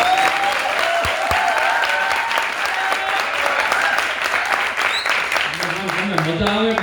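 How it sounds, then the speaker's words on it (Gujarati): Dense, sustained clapping from an audience at a Gujarati lokdayro folk music event at a Swaminarayan temple in Melbourne, loud and continuous throughout, with a singer's or speaker's voice and music over it. "તાળી પડો જ જોઈએ"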